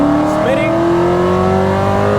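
A 900hp C7 ZR1 Corvette pulls in 3rd gear with a loud, steadily climbing engine drone, a brief tire squeal, and the tires spinning under power, close and continuous, with a voice heard over it.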